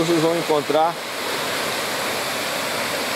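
The Antônio Monteiro waterfall at Pocinhos do Rio Verde rushes in a steady broad hiss, with someone speaking briefly over it at the start before the water carries on alone.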